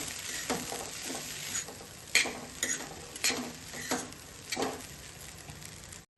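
Dried red chillies temper in hot oil for lemon sevai, a quiet steady sizzle under repeated scraping strokes of a spoon stirring the pan, close up with no talk.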